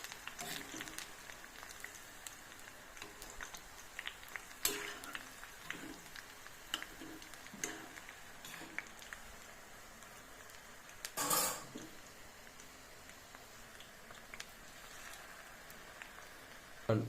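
Egg frying in bubbling oil for a papaya, garlic, ginger and onion dish, a faint, steady crackle and spatter with scattered pops and one louder burst of sizzle partway through.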